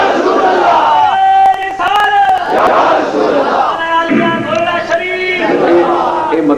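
A large crowd at a religious gathering in Kalar Syedan shouts slogans in loud, overlapping chanting bursts that rise and fall steadily, with voices blending into a dense roar throughout.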